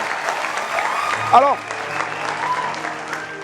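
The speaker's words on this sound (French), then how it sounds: "Je vous prie encore de l'applaudir très fort" Studio audience applauding a legendary guest on a French-language talk show, clapping under a host's voice, with a brief louder burst and some musical tones before the host carries on talking.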